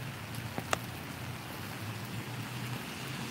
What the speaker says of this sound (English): And it is raining. It's not raining really heavily.